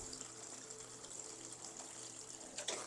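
Water trickles and splashes steadily into seed starting trays at an indoor seed-starting setup for snapdragons, a faint continuous pour with a small splash near the end.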